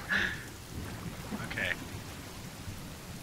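Rain and thunder in the survival video game The Forest: a steady hiss of rainfall with two brief rumbling thunder cracks near the start and middle, while a voice speaks briefly.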